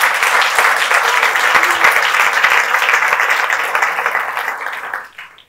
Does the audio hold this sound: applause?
yes